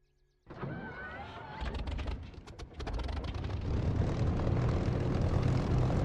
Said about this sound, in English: Crack the throttle and away we go.